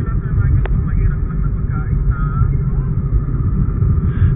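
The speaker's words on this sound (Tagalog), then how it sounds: "Traffic here in Libis area." Steady road traffic rumble on a flyover toward Libis, a continuous low drone of passing vehicles, fairly loud and close with no clear breaks.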